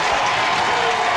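A bowling crowd applauds and cheers, a dense, steady wash of clapping that fills the space loud and close throughout.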